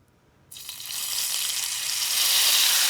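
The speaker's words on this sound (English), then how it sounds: "So that really sizzles up" A sudden loud sizzle as balsamic vinegar hits a hot pan, starting after a brief quiet moment and holding steady, bright and hissing.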